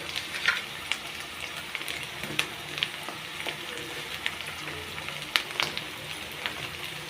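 Spice paste with chili paste sautéing in a pan for a chicken curry, a steady crackling sizzle punctuated by sharp spatula scrapes and pops at irregular intervals, close up with no talking.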